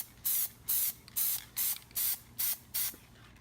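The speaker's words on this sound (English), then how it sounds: "Just do some quick light sprays." Plasti-Dip sprayed from an aerosol can onto a Corsair Carbide 600C computer case in seven quick, evenly spaced hissing bursts, close and fairly clear with brief silences between them.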